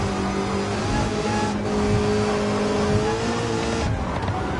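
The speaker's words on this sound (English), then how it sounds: "You can hear Swan working that throttle" Classic muscle car racing in a NASCAR-style event on a city street circuit, its engine droning loud and steady with throttle modulation and shifting pitch, the sound continuous and close.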